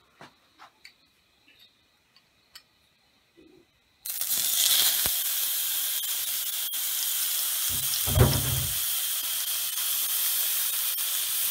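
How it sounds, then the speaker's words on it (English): Kingfish hits a very hot pan with olive oil and erupts into a loud, steady sizzling hiss after a few quiet ticks and taps, with a brief low thud partway through as the searing continues. "So I'm going to pan sear my kin fish"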